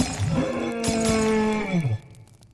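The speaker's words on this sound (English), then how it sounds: "causing every single one of my windows to shatter" Car windows shattering in a burst of breaking glass, with a loud crashing stretch of sharp cracks and tinkling shards that drops away abruptly to near silence.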